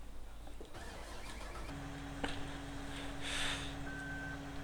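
A tractor in a farming video game starts up. A click gives way to a low, steady engine hum that settles into an even idle, and a thin electronic beep tone joins near the end.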